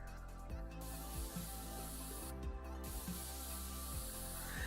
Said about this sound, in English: I'm just going to spray it with thermal paste.